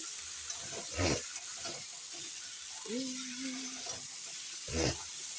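Vegetables sautéing in a pan for khichuri, a soft, even background sizzle with occasional louder stirring scrapes, while a person talks briefly over it.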